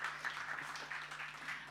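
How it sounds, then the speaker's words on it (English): An audience applauds after a speaker introduces a Volkswagen government relations executive at a GLOBSEC panel on global trade, giving a faint, steady patter of clapping throughout. "A round of applause before we get into some very difficult conversations."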